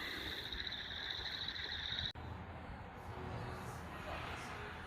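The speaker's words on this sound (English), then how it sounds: "The frogs are chirping." Frogs chirp and croak steadily at a distance near a flooded lawn where water is still rising, a continuous outdoor chorus with a brief break partway through.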